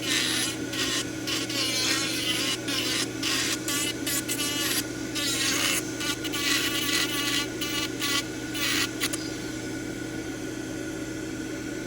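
A 3D printed full arch implant prosthesis gets deburred with a small rotary tool, producing a steady high rasping grind broken by short stop-start bursts before the tool cuts off and a faint hum remains.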